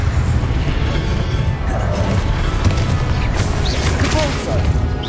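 A Confringo spell explosion in Hogwarts Legacy, a dense, loud booming crash that rolls on continuously amid game effects.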